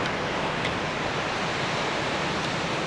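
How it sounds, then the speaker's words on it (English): Ocean surf rolling in beside a pier at Surf City, where surfers are out on the water, makes a steady, broad wash of breaking waves with no talk, constant and fairly loud throughout. "Oh yeah, a little bit of a wave action."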